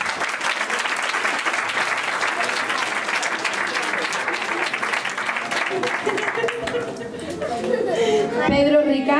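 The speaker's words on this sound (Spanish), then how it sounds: "Le mandamos un fuerte aplauso." Parents and guests applaud at a nursery-school graduation ceremony, a steady wash of crowd clapping mixed with chatter that thins toward the end as voices and children's sounds rise.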